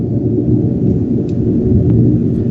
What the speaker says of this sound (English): Yeah, that is a thunderstorm